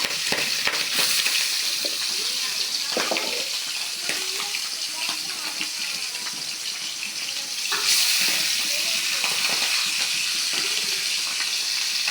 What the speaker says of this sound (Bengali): ভেজে নিচ্ছি পাবদা মাছগুলা